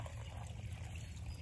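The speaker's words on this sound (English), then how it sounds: "I've just got a little bucket of water and I'm just gonna pour this" Water poured from a small bucket over a freshly transplanted tomato plant in a yard, a steady soft trickling splash with a low rumbling undertone throughout, no talking.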